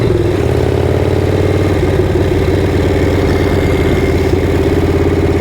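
Steady, loud Shovelhead motorcycle engine running continuously as the bike rides along country backroads, a throbbing low drone with no voices over it.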